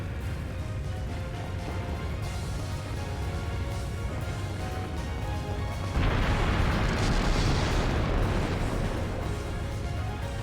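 A steady low roar of fire in the role-playing game Trails through Daybreak, a constant rumbling bed that swells louder and brighter about midway and holds.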